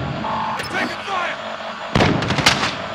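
Gunfire and booming blasts from a Call of Duty Modern Warfare multiplayer match: distant pops and a rumbling background give way to a loud, close burst of rapid shots, with voices calling out in the game.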